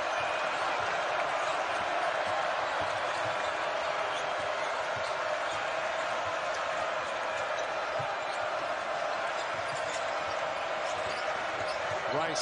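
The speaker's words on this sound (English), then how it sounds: "The crowd trying to get back in it." A basketball arena crowd at a Texas vs Oklahoma college game keeps up a steady roar through the whole stretch, with sneaker squeaks and ball bounces, and a commentator talks over it.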